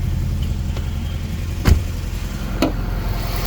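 A car's 3.5-litre V6 engine runs at a steady idle close by, a low continuous hum with two brief clicks partway through and no talking.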